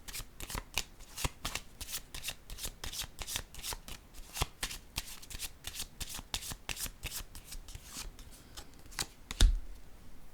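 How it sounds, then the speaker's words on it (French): Tarot cards being shuffled and laid down, a rapid run of crisp riffling flicks and snaps close by, ending in one firmer slap of a card placed on the table. "Attendez, je vais déposer une autre carte."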